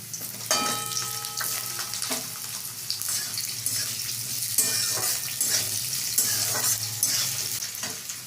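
Chopped potatoes going into a hot pan for a lau shak and posto curry, with a bright, close sizzle and stirring clatter of a utensil against the pan, continuous with no talking.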